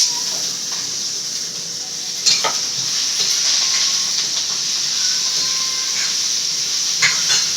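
Onion, tomato, ginger and garlic sautéing in a pan, a steady close sizzle and hiss with occasional stirring scrapes and clinks throughout, no talking.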